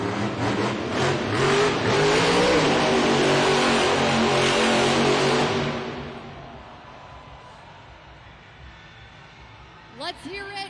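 The Earthshaker monster truck engine roars loud and sustained at a Monster Jam arena event in San Jose, then fades after about six seconds into crowd ambience, with a brief rising whistle-like sound near the end.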